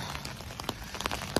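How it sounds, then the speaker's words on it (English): Heavy rain pouring down outdoors, a dense steady hiss broken by irregular louder drops and splashes striking nearby surfaces, with no talking. "It's pouring down raining"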